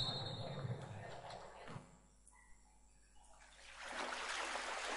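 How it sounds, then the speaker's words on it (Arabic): Water sound effect: a trickling, splashing flow that fades briefly to near quiet in the middle before the rushing water returns, soft and moderately distant. "صوت مية."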